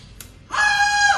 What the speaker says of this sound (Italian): L'urlo dell'infermiera?